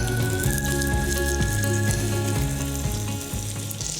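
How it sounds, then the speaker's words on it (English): Steady, loud sizzling of cornmeal-coated rainbow trout searing in a hot pan, continuous throughout with a constant hiss and crackle; no talking. "Hear that sizzle?"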